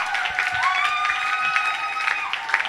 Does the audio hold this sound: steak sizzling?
no